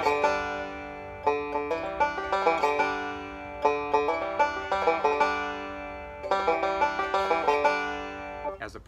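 Banjo break on a song, picked evenly without accentuation, bright plucked notes rolling in repeating phrases with short pauses between them, close and clear with no talking.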